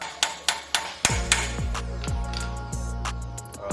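An inner axle seal is hammered into a swivel hub: a run of sharp metallic blows, quick light taps and then heavier ringing strikes, close and alone.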